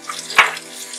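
Water splashes briefly onto a dental stone model and the surrounding stone to wet it before fine sanding with 220-grit waterproof sandpaper; a single short wet burst, close and moderately loud.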